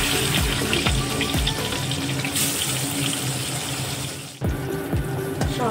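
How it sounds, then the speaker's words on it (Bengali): Rupchanda fish frying in a pan with oil, a steady loud crackling hiss running throughout with sharper spits and pops, briefly dipping before resuming. "এরকম করে সব মাছগুলো ভেজে নেব"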